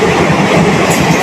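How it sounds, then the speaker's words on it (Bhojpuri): A local train pulling into Pipri station, its steady rumble and rolling rail noise loud and close throughout, with no talk over it. "दीदी की ट्रेन आ गई बा"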